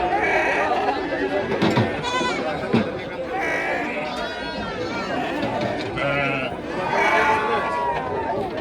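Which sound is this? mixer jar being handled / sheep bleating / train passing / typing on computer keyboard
sheep bleating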